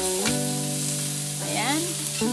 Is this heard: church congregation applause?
no